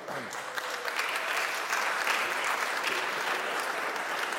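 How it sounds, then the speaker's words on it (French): An audience applauds steadily for several seconds, a dense wash of clapping hands in a room. "Il n'y a que les femmes qui applaudissent."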